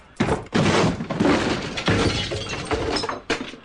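Police breaking in a locked door in a radio drama: a loud burst of shattering glass, followed by falling, tinkling shards and debris that trail off, with a final crash near the end.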